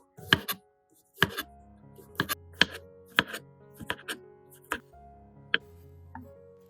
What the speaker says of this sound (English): Slice thinly and evenly so that when used, it cooks quickly and is more fragrant.